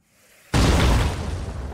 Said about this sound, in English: it's quick aim and launch a grenade